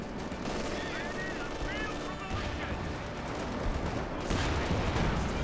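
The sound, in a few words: artillery fire in the video game Company of Heroes 2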